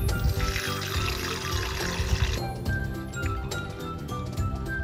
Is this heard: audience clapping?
no